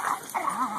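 A rat terrier scuffles with a pitbull puppy, giving a brief burst of high-pitched yips and whimpering growls at close range.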